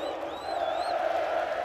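Grêmio supporters roar in a stadium after their side's comeback win over Botafogo, a broad sustained crowd noise with a whistle-like tone gliding above, heard from a distance.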